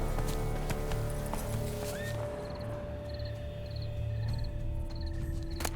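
Horse hooves clip-clop on the ground in The Witcher 3: Blood and Wine, light and rhythmic over a low ambient bed with tonal game music, chirps and a faint whinny.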